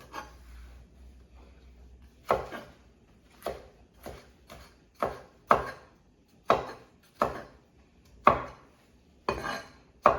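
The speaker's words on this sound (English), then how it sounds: "You chop it rough." A knife rough-chops peppers on a cutting board in about a dozen sharp, separate strokes, each with a clear thud. The rhythm is uneven, with short quiet gaps between chops and no talking.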